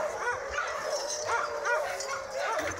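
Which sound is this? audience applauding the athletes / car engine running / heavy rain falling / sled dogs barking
sled dogs barking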